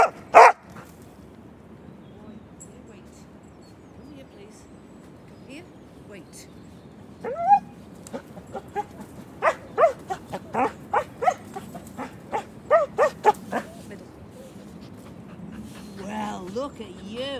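A dog gives a string of short barks and whimpering yelps at close range in an outdoor training session, broken by gaps, with a person speaking to it at times.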